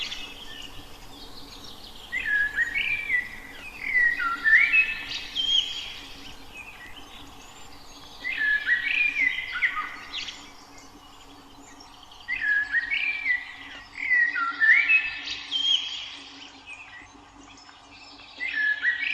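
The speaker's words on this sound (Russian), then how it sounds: "Вот черный дрозд поет." Common blackbird singing outdoors: a series of fluting, warbling phrases repeated every few seconds, moderately close and clear over a faint steady background hum.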